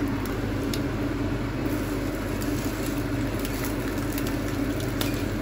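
Food fries in a non-stick pan, giving a steady, close sizzling hiss with light crackling pops throughout and no talking.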